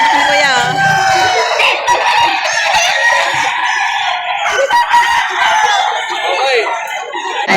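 A rooster crows loudly and close at a livestock auction market in Padre Garcia, with drawn-out calls over clucking hens and other chickens in the background.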